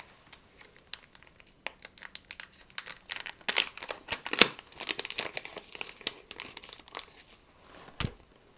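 Streetwear packaging is torn open and crinkled close up, with bursts of crumpling and ripping of paper or plastic that grow louder and busier in the middle, then taper off with a few scattered rustles.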